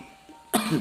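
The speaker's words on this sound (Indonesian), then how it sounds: "Batuk-batuk, pilek-pilek." A single sharp cough bursts out after a moment of near silence, close and fairly loud.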